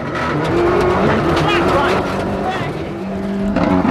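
The DHL-liveried Ford Escort rally car driven hard on stage 4 of the 1998 Donegal International Rally, engine loud and close, revving and shifting through the clip, with a commentator talking over it.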